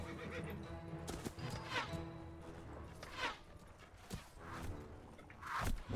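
A horse in the video game Mount & Blade: Warband whinnies several times while its hooves clip-clop steadily, with scattered swishes, clear and fairly close, without talk.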